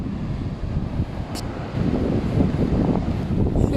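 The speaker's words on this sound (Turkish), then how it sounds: "Rüzgarın sesi o kadar güçlü ki." Strong, steady seaside wind buffets the microphone in a loud roar, with a low rumble of surf underneath that grows heavier partway through.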